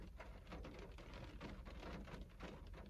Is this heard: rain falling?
yes